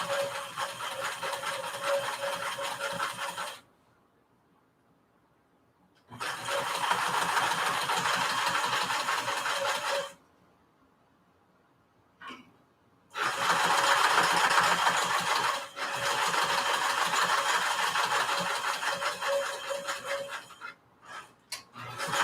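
A sewing machine runs in steady bursts while stitching a tote bag, several runs of rapid mechanical whirring separated by quiet pauses, close and fairly loud, with no talking.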